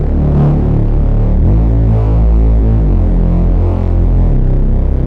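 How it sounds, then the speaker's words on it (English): Heavily hard-clipped Reese bass synth, thick and aggressive with dense distorted harmonics, droning loud and continuously for the whole stretch with slow throbbing movement. "So what we want is some distortion, some heavy distortion. We're using the hard clip setting here. We turn the drive up."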